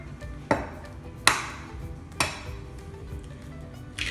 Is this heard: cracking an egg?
yes